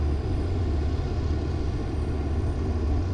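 Engine drone of a Saunders-Roe SR45 flying boat in Flight Simulator X, a steady, dense rumble that holds constant throughout without breaks.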